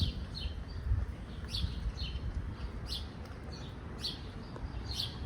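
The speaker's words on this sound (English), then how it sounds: "You can hear the birds chirping." Small birds chirp in short, bright bursts roughly every half second over a low outdoor rumble on a warm spring day, the calls moderately distant and fairly faint.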